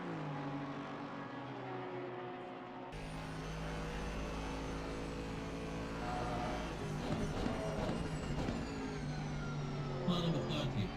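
Onboard race car engine in a sim racing sprint championship round at Barcelona, a sustained droning engine whine with shifting pitch and gear changes, steady and loud, with commentators talking over it.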